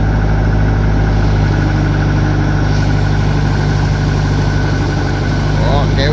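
A homemade crane's engine idles with a loud, steady mid-to-low rumble while lowering large logs onto a boat, droning continuously up close without any speech.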